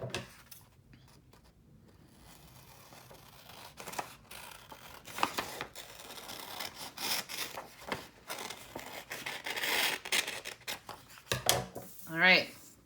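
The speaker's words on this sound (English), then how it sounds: "we're gonna cut right where we folded" Scissors cut through folded paper for a pumpkin garland in a quiet room, with intermittent soft snips and paper rustles, faint and close, alongside handling noises.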